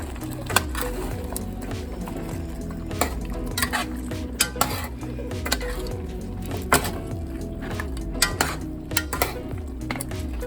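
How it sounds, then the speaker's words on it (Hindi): A spoon scrapes and stirs tomato paste into a simmering meat and potato curry in a pot, making rhythmic close scraping strokes with occasional clinks against the metal. "अभी हम टमाटर का पेस्ट डालेंगे और उसे मिक्स कर देंगे।"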